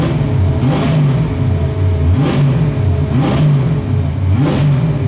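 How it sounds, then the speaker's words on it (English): A car engine revs hard several times in a row, each burst rising to a roar and then dropping back to a rough idle. "I'll give it a few revs."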